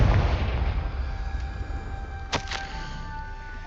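A Confringo blasting spell in the Hogwarts Legacy game erupts in a heavy boom that decays over rumble, with a quick pair of sharp cracks shortly after and a sustained tone beneath.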